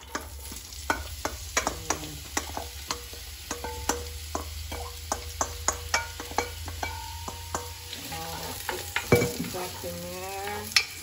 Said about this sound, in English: I like to make sure that it's hot before I add the onions in there.